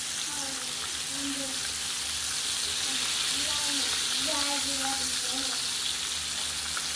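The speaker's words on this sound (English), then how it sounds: "My fish are still frying off on that side." Fish fries in hot oil in a pan, giving a steady, loud sizzle with scattered pops and spatters throughout.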